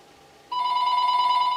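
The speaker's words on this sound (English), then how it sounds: "I hear the telephone ringing" A telephone bell starts ringing abruptly after a short quiet moment and goes on as a steady, loud, bright electronic tone.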